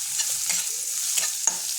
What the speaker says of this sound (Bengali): পেঁয়াজটা হালকা ভাজা নেবো, খুব বেশি ভাজবো না, এটা একদমই হালকা ভেজে নেব।